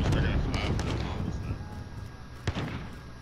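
Gunfire in Call of Duty, a rapid burst of loud shots at the start, then a quieter gap and one more sharp shot near the end.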